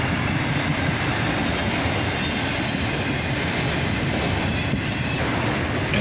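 Autorack freight cars roll steadily past at close range, one with its door left open, giving a loud continuous rumble with clickety-clack and faint wheel squeal and no talking.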